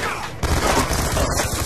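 B-23 gunfire in the video game Black Ops 2, a dense, loud burst of rapid shots and booming impacts that starts abruptly and continues to the end.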